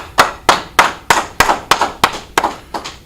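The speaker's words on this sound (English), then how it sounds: "All right, clap it up." A small crowd at a Wednesday law class of a Houston religious school claps in sharp, loud, evenly spaced beats, about ten claps in a quick rhythmic run, near and without talk.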